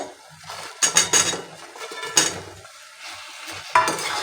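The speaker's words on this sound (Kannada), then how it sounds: "ಇದೆಲ್ಲ ಹಾಕಿಬಿಟ್ಟು ನೀಟಾಗಿ ಇದನ್ನು ಫ್ರೈ ಮಾಡ್ಕೊಳ್ಳೋಣ" Paneer and masala fry in a pan for matar paneer, with a spoon scraping and clinking against the metal in several brisk stirs over a soft, steady sizzle.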